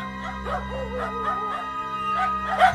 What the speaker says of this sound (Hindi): कुत्ते भी इस पर भौंकते हैं।